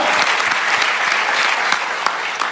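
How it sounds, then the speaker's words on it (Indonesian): A church congregation applauds during a worship service, dense steady clapping from many hands filling the room evenly for the whole stretch, fairly loud and close. "Tepuk tangan bagi Tuhan"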